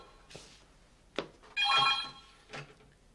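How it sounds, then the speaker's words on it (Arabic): A home telephone rings once in a short trilling burst near the middle of a quiet room, with a few faint knocks and household sounds before and after and no talking. "ردي على التليفون، ايديني مشغوله"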